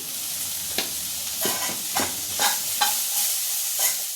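Misal usal curry is stirred in a sizzling pan, a spoon scraping in repeated strokes about every half second over a continuous close fry hiss, with no talk.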